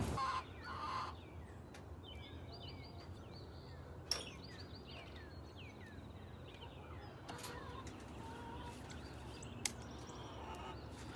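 Chickens clucking and squawking restlessly in repeated short calls, fairly faint over a steady background hum, with occasional sharp knocks.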